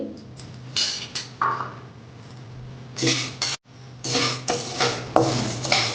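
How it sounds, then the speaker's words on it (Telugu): Dry toor dal poured into a kadai on a stove for homemade sambar powder, giving a few scattered rattling, clattering bursts with quiet pauses between them, close and fairly soft. "ఒక కడాయి పెట్టుకోండి అందులో ఇలా ఒక కప్పు కందిపప్పు పోసుకోండి"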